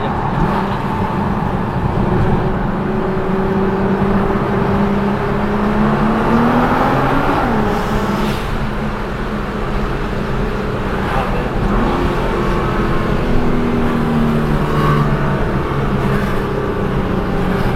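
Loud, close engine of a Nissan GT-R tuned to about 700 hp and fitted with air suspension, its tone rising through several acceleration pulls over a steady roar.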